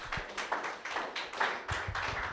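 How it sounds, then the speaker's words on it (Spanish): A church congregation at a Spanish-language service claps in a steady rhythmic beat, roughly two claps a second, moderately loud and close, with faint background sound between the hits. "Un aplauso a Jesús."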